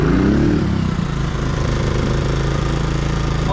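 A CFMOTO portable generator runs in Eco mode with a steady, loud, close engine drone and low chugging, its pitch settling after a brief rise at the start.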